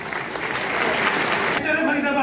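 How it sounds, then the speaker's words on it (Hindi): An audience applauding at a business training seminar, a dense wash of clapping that cuts off sharply near the end, leaving a voice heard speaking. "मैम जोरदार तालियां"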